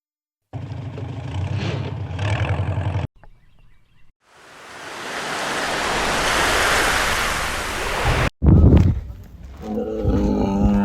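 A roaring wash of surf builds and swells for several seconds, broad and steady like waves breaking on a shore, between short bursts of other sounds.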